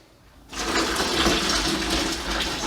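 Finished maple syrup pours steadily into a filtering cone set over a 2-gallon cooler, a continuous close rushing splash that starts abruptly and holds without pause.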